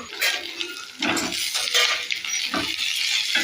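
Garlic and green chillies being sautéed and stirred in a pan, with tomatoes about to go in: clattering utensil scrapes and clinks over a soft steady hiss, several louder stirring bursts, no talking.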